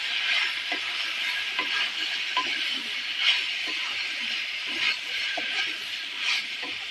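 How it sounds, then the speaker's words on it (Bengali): Beans and potatoes fry in a pan with turmeric and chili powder, giving a steady broadband sizzle with occasional soft scrapes of the spatula, close and even throughout. "লঙ্কা গুঁড়ো দিলাম, দিয়ে এটাকে ভালো করে কষে নেব"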